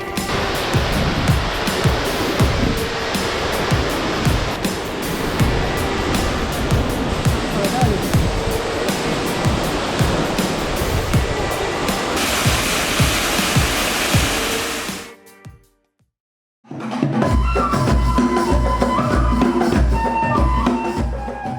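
The Athirappilly waterfall in Kerala, India, roars as a loud, steady wash of falling water, briefly cut to near silence before the dense rushing resumes.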